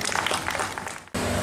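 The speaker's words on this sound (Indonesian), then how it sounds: "Tepuk tangan dulu buat Pak Hengki." A crowd claps at a formal evening inauguration ceremony for Hengki Liyanto, leader of the PSMTI Chinese-Indonesian association in NTT. The brief burst of indoor applause is dense and fairly loud, then cuts off abruptly.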